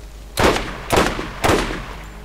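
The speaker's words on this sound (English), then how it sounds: "Yeah, this sniper is awesome." Sniper rifle shots in Borderlands: three loud, evenly spaced cracks about half a second apart, each with a short decaying tail over a low steady hum.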